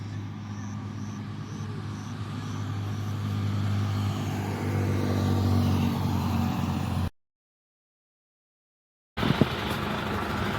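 Road traffic at the border crossing in Busia, Uganda, with a steady rumble of car and motorcycle engines passing close by, broken by a short gap of silence before the engine noise resumes.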